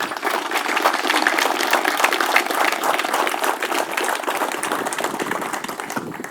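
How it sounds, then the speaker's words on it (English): An audience at a military change-of-command ceremony applauds loudly and continuously, a thick, even roar of many hands clapping that carries on for several seconds without pause. "Please join me in a round of applause and recognition of not just what they've done, but what they will do to support our force."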